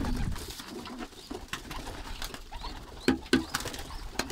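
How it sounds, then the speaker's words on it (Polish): Thirsty pigeons in a breeding loft coo in low, soft bursts, with a couple of clearer calls near the end over a steady background murmur. "bo te gołębie mi przeszkadzają, bo są spragnione, chce im się pić"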